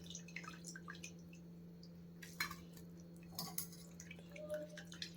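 Soaked soya chunks are squeezed by hand, giving quiet, scattered drips and squishy trickles of water. A few sharper splashes and small clinks stand out against a faint steady hum in the background.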